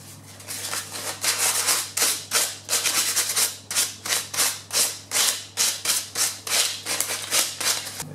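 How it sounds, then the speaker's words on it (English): Sandpaper rubbing over the tips of a stained stag antler, a fast run of rhythmic scratchy strokes, about two or three per second, close and steady with no talking. "Just with a quick brush with some sandpaper"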